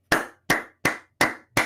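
Five slow, evenly spaced claps ring out close and crisp, each decaying into a short room echo.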